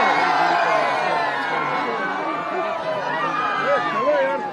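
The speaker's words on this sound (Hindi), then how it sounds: "अति उत्साही भीड़" Dense, excited crowd swarming around Bihar Chief Minister Nitish Kumar's visit in Araria, with steady loud chatter, shouts and whoops close by throughout.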